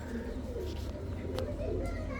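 A breeding pair of Pakistani Teddy pigeons coo softly in low, rolling murmurs, close by, with a bit of background noise and faint movement.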